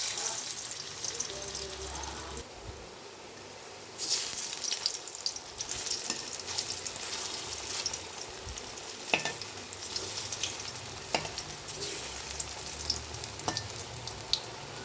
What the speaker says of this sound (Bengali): তেল গরম হয়ে গেছে আমার। অল্প অল্প করেই ভাজবো।